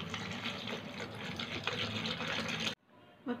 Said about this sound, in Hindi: अब इसमें डाल देंगे ये पानी